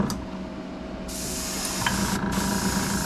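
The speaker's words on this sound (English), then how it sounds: "don't be afraid to spray a nice wet coat right off the bat." An airbrush sprays Tamiya acrylic paint in a wet coat of gray onto a modified RC car chassis. A steady close hiss starts partway through, briefly pauses, then resumes over a faint background hum.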